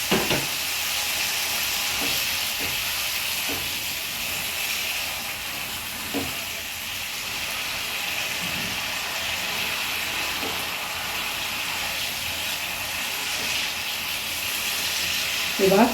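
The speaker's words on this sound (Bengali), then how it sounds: "মশলা দিয়ে একটু জল এখানে দিয়ে দিলাম" Water added to whole spices frying in oil for a Bengali jackfruit curry, a steady loud hiss and sizzle with steam continuing throughout, with faint occasional stirring knocks.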